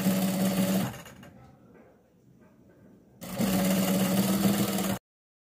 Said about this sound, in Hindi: इसके ऊपर सिलाई लगानी है